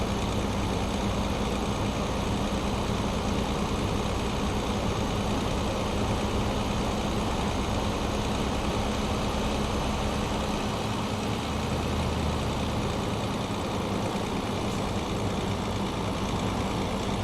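A Greyhound bus engine drones steadily while driving in American Truck Simulator, a continuous low, even rumble with no change in pitch and no voices.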